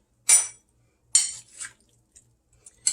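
Chicken salad with apples and grapes is gently tossed with a spoon, giving soft clinks and scrapes in a few separate bursts with pauses between them, close and fairly quiet.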